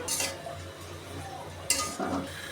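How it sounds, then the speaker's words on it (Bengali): Jute leaves sautéing in a pan, stirred with a utensil, giving two short scraping bursts over a steady low sizzle, close and moderately loud with no voices. "শাকটা অনেকটাই কষি অল্প জলেই একবার নরম হয়ে গেছে"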